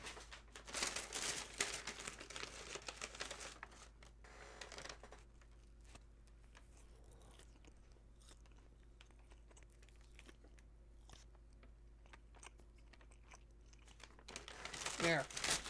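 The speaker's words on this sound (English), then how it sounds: "Donut ASMR." Someone eating a donut up close, with loud crinkling of a wrapper and crunchy chewing at the start and end, and quieter mouth sounds in between.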